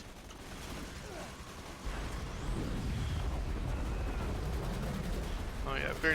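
Assault rifle fire from the Cepheid weapon in a modded Borderlands 2 rattles in quick bursts alongside explosive impacts and mechanical game effects, with a voice talking over the action.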